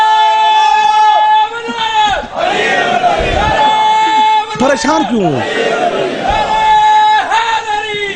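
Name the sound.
crowd chanting a religious slogan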